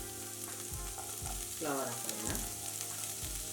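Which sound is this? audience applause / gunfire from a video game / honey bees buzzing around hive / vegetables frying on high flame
vegetables frying on high flame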